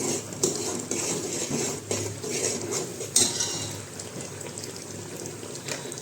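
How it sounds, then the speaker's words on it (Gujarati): A utensil stirs chole gravy with kasuri methi in a metal pot, scraping and clinking steadily with a few sharper knocks against the sides, close by and with no voices. "પછી આપણે એમાં નાખશું કસ્તુરી મેથી અને સરસ મજાનું બધું મિક્સ કરશું"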